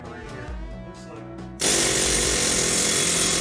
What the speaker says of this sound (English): I have the air hammer in here.